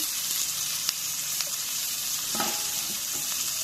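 Sliced onion and green chillies sizzle in hot oil for a hilsa fish bhuna, a steady close frying hiss with a few light stirring scrapes and pops.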